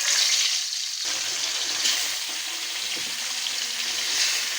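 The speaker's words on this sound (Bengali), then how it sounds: "আমি এখন মাছগুলো ভেজে নিব" Fish sizzles and crackles in hot oil in a pan, a steady dense frying hiss that holds throughout without any talking.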